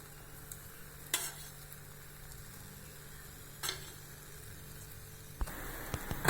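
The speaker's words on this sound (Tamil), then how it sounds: "நல்லெண்ணெய் ஊற்றிக்கலாங்க." A horse gram dosa cooks in sesame oil on a pan, giving off a constant soft sizzle marked by a few sharp clicks of a spatula and a louder burst of crackling near the end.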